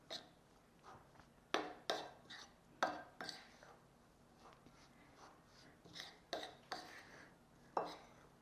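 Dry gluten-free cookie ingredients being mixed by hand in a bowl for a refined-sugar-free holiday cookie. Faint, irregular taps and scrapes against the bowl recur every second or so in a quiet room.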